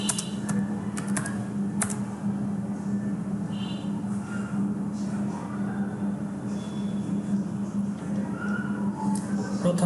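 Steady typing on a computer keyboard while entering a website name in a browser, with quick irregular key clicks over a constant low hum, close by; a voice is faintly present underneath.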